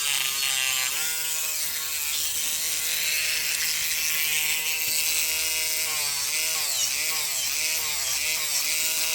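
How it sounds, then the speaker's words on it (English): An electric nail file buffing gel on natural nails, a continuous high whirring drone with a loud, constant tone whose pitch dips and wavers as the light pressure shifts. "I'm not pressing the file down at all, I'm just letting the file do the work."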